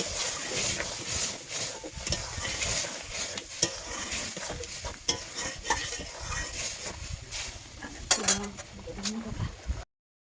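Dal tipped into a cooking pot with melted tomatoes and turmeric and stirred, producing a soft sizzle with repeated scraping and clinking of a spoon against the pot, close and fairly quiet.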